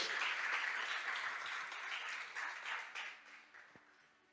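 A church congregation applauds, a broad, dense wash of clapping that starts full and steady, then thins and fades over a few seconds with no talk on top.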